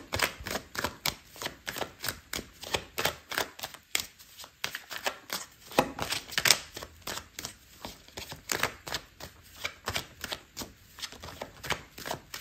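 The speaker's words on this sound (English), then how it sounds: "so I'm gonna put another card" Tarot cards are shuffled and handled and then laid down on a table, a steady run of crisp riffling and tapping card sounds that stays close and continuous throughout.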